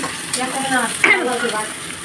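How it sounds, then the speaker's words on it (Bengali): Chopped onions and green chillies fry in a pan and are stirred, making a continuous close sizzle with scraping stirs and a faint voice in the background. "পেঁয়াজটাকে এখন লাল লাল করে ভাজা হচ্ছে"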